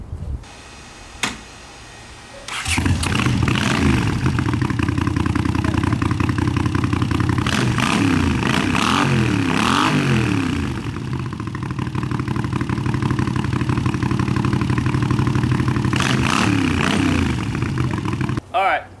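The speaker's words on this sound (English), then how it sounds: "I know you came here for the motorcycle sounds, so you're gonna get some." A motorcycle engine, not the Virago XV1100, idles low, then fires up loud and steady and revs up and down through the middle, settling back to a sustained close rumble.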